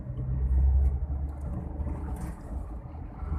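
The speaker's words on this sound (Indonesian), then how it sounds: "Mobil kencang-kencang semua" Busy afternoon road traffic in Karang Baru, Aceh Tamiang, with cars passing fast: a low engine rumble swells as a vehicle goes by close, then settles into a steady traffic drone.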